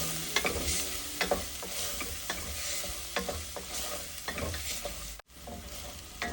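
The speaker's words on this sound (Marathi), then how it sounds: "गरम मसाला अर्धा चमचा आणि हे आपण छान परतून घ्यायचे मसाले." Turmeric, coriander, chili powder and garam masala fry in hot oil for a ridge gourd curry, a constant close sizzle broken by regular scraping stirs of the spoon, with one brief dropout near the end.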